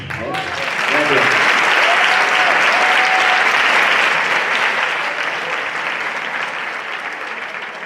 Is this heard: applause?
yes